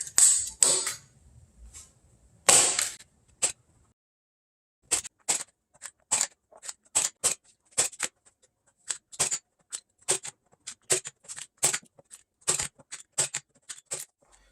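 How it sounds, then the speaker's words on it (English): Fabric being stapled onto a BMW 3 Series sunroof sunshade, sharp close snapping clicks fired one after another in an irregular series, with a couple of louder rustling handling noises near the start. "we're going to take this side and we're going to staple it"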